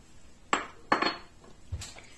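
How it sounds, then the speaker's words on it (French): Icing sugar mixed with butter in a bowl, heard as a few sharp utensil knocks and scrapes against the bowl, spaced apart, close and fairly quiet, with no voices. "je vais venir mélanger notre sucre glace avec le beurre"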